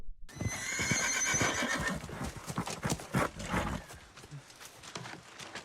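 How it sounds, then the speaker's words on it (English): A horse whinnies and its hooves clip-clop during a fantasy drama scene, loud and close, with a few scattered voices reacting under the sound. "Patrick, you really need to learn how to ride a horse."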